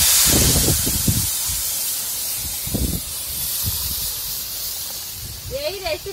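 Cumin seeds and spices sizzle sharply in hot oil as jackfruit-seed dal is tempered over a clay village stove, a steady close hiss with a few louder bursts, under occasional speech.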